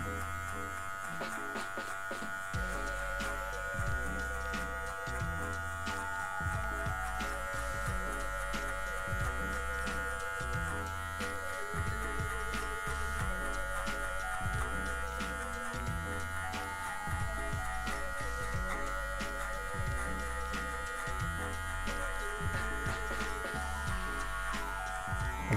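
Electric hair clippers fitted with a 1.5 guard fading hair at a barbershop, a steady close buzz humming without pause throughout.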